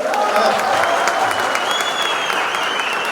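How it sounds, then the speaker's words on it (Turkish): Sustained applause from guests at a civil wedding ceremony held by a municipal mayor in Bursa, dense and steady throughout with faint voices mixed in. "Damat burada alkışı hak etti."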